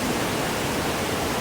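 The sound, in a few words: river water flowing strongly at Hogenakkal falls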